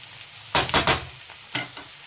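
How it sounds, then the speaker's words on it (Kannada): Onions fry in a pan for a Kannada okra and egg stir-fry, short bursts of sizzling as they are stirred, three quick close scrapes followed by a softer one. "ಸ್ವಲ್ಪ ಚೆನ್ನಾಗಿ ಫ್ರೈ ಆಗಿದೆ. ಆನಿಯನ್ಸ್ ಕೂಡ ಗೋಲ್ಡನ್ ಬ್ರೌನ್ ಕಲರ್ ಬಂದಿದೆ"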